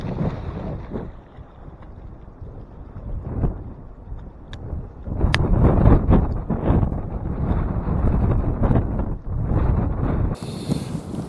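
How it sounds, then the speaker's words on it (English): Strong gusting wind batters the microphone on a Michigan lake during a duck hunt, loud rumbling buffets rising and falling without pause. "Wind's so strong"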